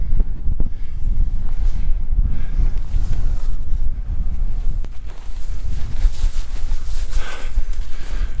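Strong gusty wind buffets the microphone on a cold hilltop in Weardale, a loud continuous low roar with surges and no speech.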